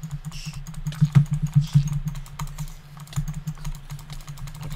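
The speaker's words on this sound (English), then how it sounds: "I can hear lots of keyboard thrashing" Rapid computer keyboard typing during a team gaming session, close and busy, with irregular clattering keystrokes and a low hum underneath throughout.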